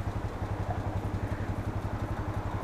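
Yamaha XT 660 motorcycle engine running close by with a steady, pulsing low thump, a rhythmic chugging beat that holds even throughout.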